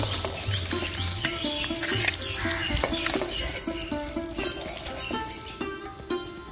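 Eggs frying in oil in a pan give off a steady sizzle with crackling pops, while background music plays beneath.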